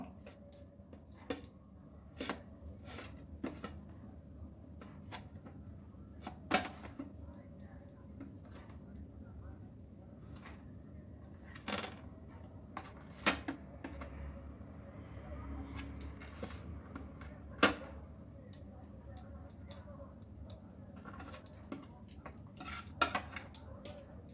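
A knife trims rolled bread pieces into squares for a Bengali bread-based chitrakut sweet, giving sparse, sharp clicks and taps against a quiet kitchen background, with a faint voice now and then.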